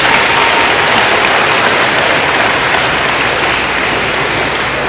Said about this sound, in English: One more round of applause for these kiddos